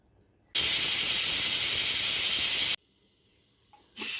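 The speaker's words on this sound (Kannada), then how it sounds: "ಕುಕ್ಕರ್ ಮುಚ್ಚಿ 3 ಕೂಗು ಕೂಗ್ಸೋಣ." A pressure cooker full of mutton chops lets off one loud, steady jet of hissing steam for about two seconds, then cuts off abruptly, with a brief faint rustle afterward.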